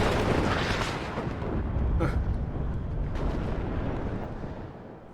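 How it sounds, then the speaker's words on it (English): Rocket artillery firing in the WARNO 2v2 multiplayer war game, a dense rumbling barrage of booms and bursts that stays loud and continuous throughout, with a couple of sharper launches standing out. "Artillery's going out now at something over here at this tank."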